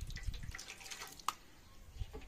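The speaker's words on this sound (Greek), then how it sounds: "Κοιτάξτε με το νεράκι που το πλένεις" A hand-hammered copper object is rinsed under water while being cleaned, with a quiet, uneven trickle, drips and splashes, and one sharp clink partway through, close but faint, with no talking.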